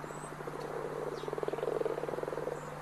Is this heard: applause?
no